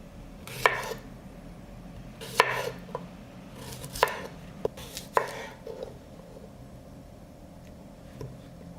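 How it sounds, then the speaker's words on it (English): Cucumbers are sliced into thick rounds on a board, giving several sharp, separate knife chops at an uneven pace with quiet gaps between them. "I cut the cucumber into thicker slices."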